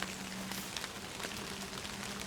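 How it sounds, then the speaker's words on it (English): Steady rain falls in a forest of fall colors on Cooper's Creek, a dense continuous patter of drops striking leaves and gear close by, with no voices. "and it's raining."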